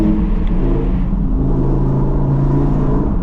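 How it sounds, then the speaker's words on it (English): Audi R8 exhaust burbling in dynamic mode on a night drive, a loud, close, continuous engine drone with steady rumbling tones that hold without a break. "You can already hear the burbles. It sounds crazy."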